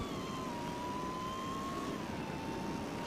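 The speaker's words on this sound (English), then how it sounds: "Listen to the supercharger." A supercharged car being driven along train tracks gives a steady high whine that slowly sinks in pitch over rumbling road and engine noise, with no talking.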